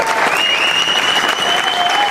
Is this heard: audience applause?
yes